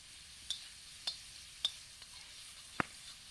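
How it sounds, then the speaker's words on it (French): Lardons frying in a pan over a campfire outdoors, a soft hiss under a few sharp separate ticks and pops spaced about half a second apart. "Là, on va cuisiner les lardons."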